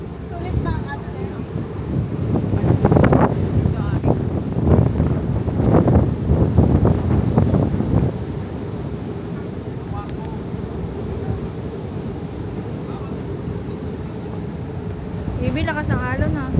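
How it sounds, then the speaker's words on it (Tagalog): Strong sea waves and gusting wind recorded from aboard a boat, a steady roar with heavy wind buffeting the microphone, loudest in the first half, while people talk and call out over it. "lakas ng alon ha"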